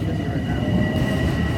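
DE30AC locomotive 415 rolls past the Rockville Centre station platform, a loud, steady low rumble of wheels and engine with a faint tonal hum, continuous and close for the whole stretch.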